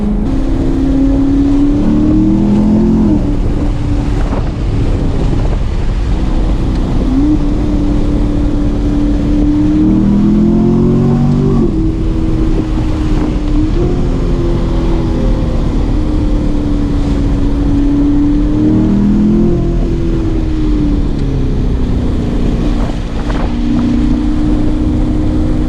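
A loud C7 Corvette engine pulls hard on a mountain drive, its steady roar rising and falling through repeated gear changes over constant wind rush, with no talking.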